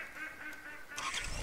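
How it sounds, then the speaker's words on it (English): Ducks quacking in the hunting video game Way of the Hunter, a moderately faint burst of calls near the end of a short stretch of ambient game sound with no talk. "Okay, so there's some ducks right over here."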